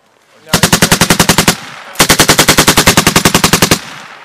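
Automatic rifle fire on a machine gun range: two loud, close bursts of rapid, evenly spaced shots, the first about a second long and the second nearly two seconds, separated by a short pause.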